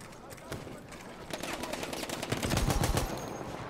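Bursts of machine gun fire, loud and close, rattle in rapid repeated shots during a battle at Saint-Quentin. The firing grows more intense toward the end, with shouting voices mixed in.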